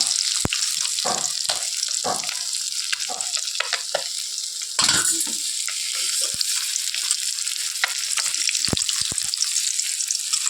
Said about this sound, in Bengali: এই মাছগুলো ভাজা হয়ে গেছে। তো বাদবাকি মাছগুলো এখন এর মধ্যে দিয়ে দিই।